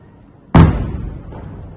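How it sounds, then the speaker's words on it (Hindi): A single sharp, loud boom from an Iranian missile attack on Israel strikes suddenly and then rumbles away into a fading tail. "जोरदार धमाके हो रहे हैं इस वक्त।"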